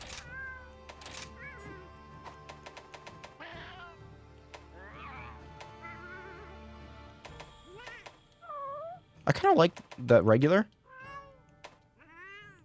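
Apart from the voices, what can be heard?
cat-like meowing voice from video game Monster Hunter Rise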